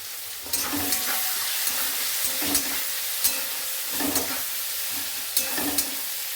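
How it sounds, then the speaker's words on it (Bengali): Onions frying in a pan for an egg and spinach dish, a continuous bright sizzle broken by repeated scraping stirs every second or so, close and alone without talk. "এইবার আমি পেঁয়াজগুলো দিয়ে দেবো।"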